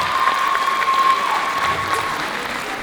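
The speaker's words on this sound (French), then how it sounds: "On peut les applaudir." Audience applause fills the room at a choreography event put on by activity leaders, steady and loud clapping from a crowd that holds evenly throughout with no break.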